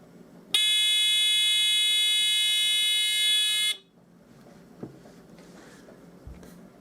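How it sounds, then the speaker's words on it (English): A buzzer switched on through a transistor switch circuit gives one loud, harsh, steady electronic tone for about three seconds, then cuts off sharply, leaving faint room noise and a couple of small knocks. "the buzzer is hooked in between the emitter of the transistor and the ground of the supply"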